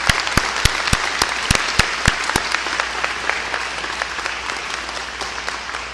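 Audience at a governor's press event celebrating Illinois Medicaid expansion breaks into loud applause, with a few distinct sharp claps at first that blend into a full, continuous round of clapping.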